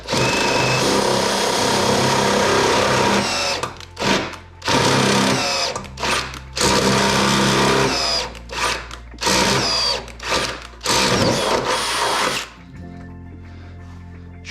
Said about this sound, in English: So we just have to drill through this hole right now